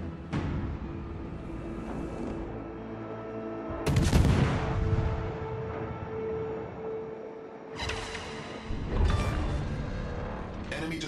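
Heavy naval gunfire booms from warships in World of Warships, several loud salvos spaced across the stretch over a constant engine hum and game sound effects.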